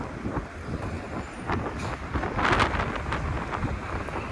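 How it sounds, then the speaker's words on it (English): Wind gusts rumble and buffet the microphone steadily on a city street, a low continuous roar with a few brief swells and no voices. "And it's a little bit windy too."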